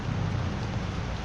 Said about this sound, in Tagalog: nagpapabasa kami sa ulan.